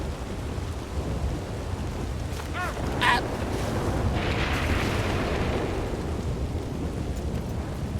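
Steady rain pours down through a thunderstorm, with a crackling thunderclap at about three seconds and a broad rolling rumble that swells and lingers over the continuous hiss.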